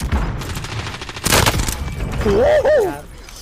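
Gunfire in the Call of Duty Warzone video game, a burst of close shots around the middle of the clip amid game noise, with a rising and falling tone and a voice talking.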